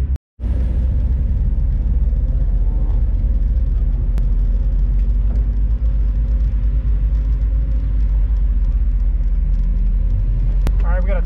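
A car driving on a race track during a track day session, heard from inside as a loud, continuous engine rumble and road drone that runs steadily throughout after a brief silent gap at the very start.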